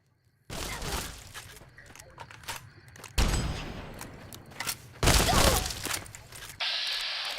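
Double-barrel shotgun fire in Tale of Two Wastelands, a Fallout mod: several loud, heavy blasts separated by a couple of seconds, each followed by clattering action noise, close and prominent.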